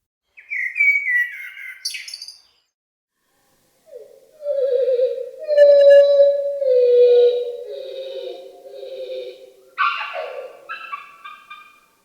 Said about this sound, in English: here's another example of a blackbird